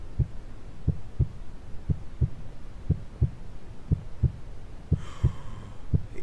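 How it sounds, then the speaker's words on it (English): A steady heartbeat in the horror game The Tape, paired low thumps repeating about once a second, deep and prominent, with a brief faint voice-like swell near the end. "So I got the heartbeat. Where's that heartbeat coming from?"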